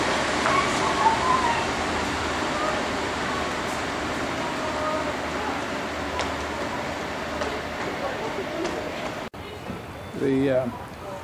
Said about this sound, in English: Down train from Adelaide towards Gawler is now arriving on platform 1.